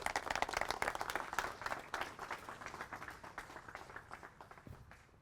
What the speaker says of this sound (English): please give a very big round of applause to Mr.